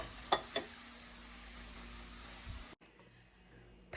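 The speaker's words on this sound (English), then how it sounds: "I just added my chopped onion, yellow onion, into the bacon. And I will let this fry until it's like golden brown" Chopped yellow onion frying in bacon fat gives a soft, even sizzle with a couple of small pops, then it cuts off abruptly to near silence.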